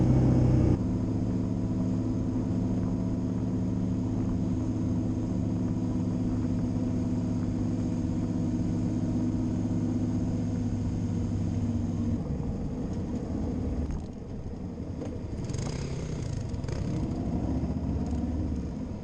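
A Yamaha Tenere 700 motorcycle engine idles and runs steadily on a shakedown run, a continuous low rumble with a strong engine hum that eases and shifts partway through, with no talk.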